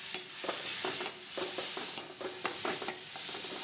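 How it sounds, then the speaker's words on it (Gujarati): Masala being stirred into a noodle gravy in a pan gives steady, close sizzling under rhythmic scraping strokes of a spoon, about one every half second. "પ્રોપર એને મિક્સ કરી લઈશું."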